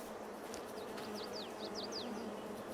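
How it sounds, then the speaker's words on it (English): Bees buzz around hives in the farming game Farming Simulator 22, a steady insect drone with quick chirping flits over a soft background hum and no talking. "So you can hear and see them coming out, which is pretty cool."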